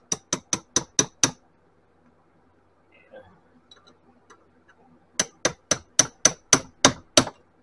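Two runs of sharp metallic knocks, six then nine evenly spaced, as a part from a Bafang Ultra M620 e-bike motor strikes against a bench vise, loud and close with a quiet pause between them.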